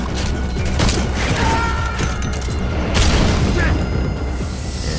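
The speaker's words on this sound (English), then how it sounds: "we're hit by a stun grenade" A stun grenade goes off in Metal Gear Solid 5 online play, giving a loud, dense boom with a sustained ringing wash. Crashes and gunfire-like bursts sit inside the continuous, close, noisy mix.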